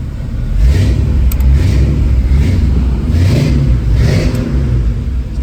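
A 1987 Chevrolet Silverado pickup with new dual exhaust revs its engine loudly and close, a steady deep rumble swelling through several throttle blips with no voices.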